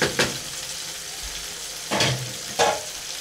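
Steady sizzling of a full pan of fish frying, with a few sharp clatters of utensils against the pan; no talking.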